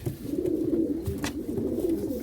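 Young Arab pigeons coo softly and continuously nearby, a low rolling burbling with faint background noise and no talk.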